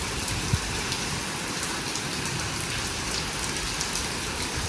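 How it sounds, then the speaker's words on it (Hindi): Heavy rain pours down in a dense, constant hiss, loud and close, with an occasional sharper drop standing out. "कितना ज़्यादा ही बारिश हो रही है।"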